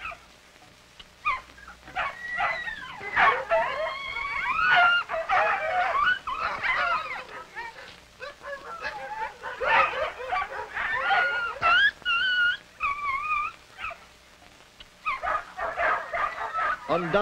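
A team of sled dogs in a fan hitch in outport Newfoundland in 1949, heard as a chorus of excited barks, yips and whimpers from several dogs, continuous and fairly close, with brief pauses.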